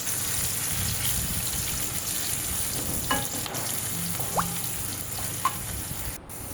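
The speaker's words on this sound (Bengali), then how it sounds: "পেঁয়াজ আর রসুন একসাথে ভেজে নিচ্ছি।" Onion and garlic fry together in hot oil in a kadai, giving a steady close sizzling hiss broken by a few small pops and spits, with no talk.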